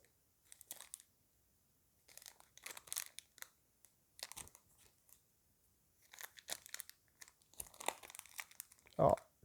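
A Pokemon card booster pack being opened, its foil wrapper crinkling and tearing in close, scattered bursts that grow louder toward the end, with a voice speaking between them.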